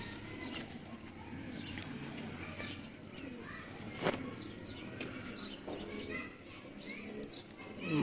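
Dub pigeons at a loft setup in Lahore coo softly and repeatedly at close range, with faint background voices and other bird chirps in a quiet setting.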